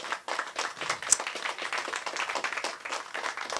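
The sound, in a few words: audience applause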